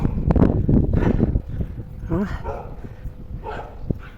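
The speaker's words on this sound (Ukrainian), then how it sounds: "Собаки там десь внизу гавкають." Faint dog barks in the distance somewhere below, a few scattered yaps under someone talking nearby on a patio in a light breeze.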